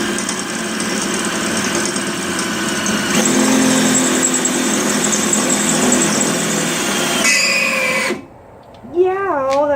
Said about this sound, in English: here in my drill I've got a 1/4 inch metal drill bit